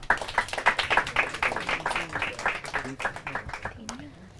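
A classroom group claps in a Portuguese quiz round, sharp uneven hand claps in a loose rhythm close by, with voices talking over them toward the end.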